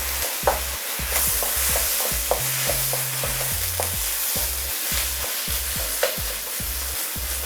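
Meat for beef stew stirred in a pot, a spoon scraping and clacking in a steady repeated rhythm over a constant frying sizzle, close and uninterrupted with no voices.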